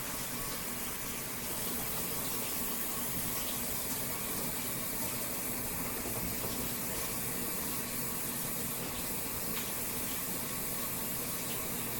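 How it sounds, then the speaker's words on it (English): Water from a running tap splashes and hisses steadily over a spatula held in a sink, continuous and close throughout, with no voices. "Washing my spatula because I need it for"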